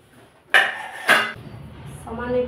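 Metal utensil scraping and clanking against a pan twice in quick succession as fried potatoes are lifted out while cooking chicken curry, followed by a softer background sizzle.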